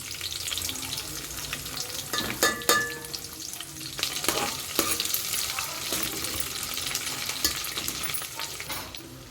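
Prawns sizzle and fry in a pot for chicken and prawn dum biryani, a steady close crackle with scraping stir strokes breaking through every second or so, no talk.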